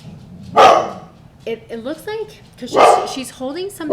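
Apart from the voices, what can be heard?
dog barking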